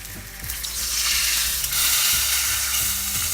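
Koi fish frying in oil in a pan on low heat, a close, steady sizzle rising into a fuller hiss with a few stirring or turning sounds and no speech.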